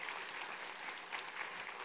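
A church congregation at a Korean Sunday morning worship service claps in brief, moderate applause, a soft even patter heard from a distance.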